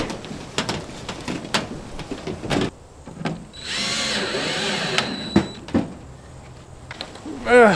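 Power drill driving screws to fasten a mobile home roof sheet after storm damage, with sharp clatters and knocks followed by a sustained whirring burst, then a short rising whine at the end; no speech.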